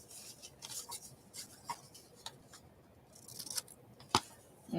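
Scissors snipping through glossy magazine paper nearby: a handful of quiet, irregular cuts and rustles, with a sharper snip near the end and no talking.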